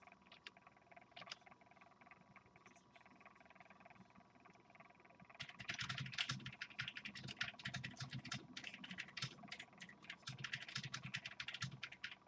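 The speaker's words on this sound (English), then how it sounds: "That would probably be Alex typing on their keyboard" Someone types on a computer keyboard somewhere in the background, faint at first, then a rapid, continuous stream of clicking keystrokes for the second half, with no voices.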